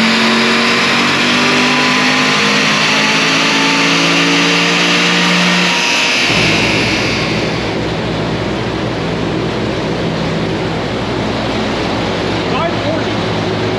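A naturally aspirated Corvette C7 on a dyno during a warm pull, its engine revving hard with a climbing, whining tone that peaks and settles into a loud, sustained roar close by.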